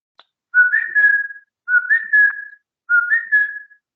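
A person whistles to call a dog on a trail, giving three clear, loud rising-and-falling whistled phrases, each about a second long, separated by short pauses, with no talking.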